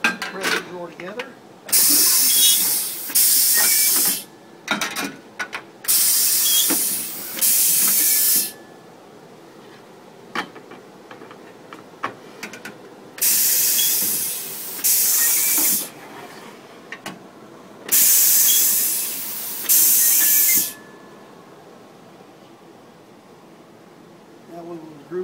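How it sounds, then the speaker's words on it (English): A Grass Zargen assembly ram presses a drawer together, giving several sharp, loud pneumatic hissing bursts in pairs, with quieter clunks between them. "Assembly ram and press the drawer together."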